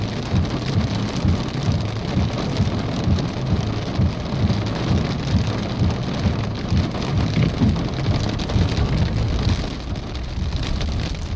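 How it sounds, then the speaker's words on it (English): Heavy rain mixed with pea-sized hail pounds steadily in a strong thunderstorm in Reno, Nevada, a loud, dense, unbroken roar of drops and pellets with no voices. "the size of the hail isn't that wide, because it's only pea-sized hail"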